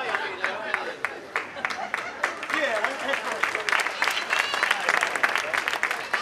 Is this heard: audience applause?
yes